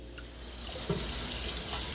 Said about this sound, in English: So now you're going to want to rinse it until the slimy residue is gone off the skull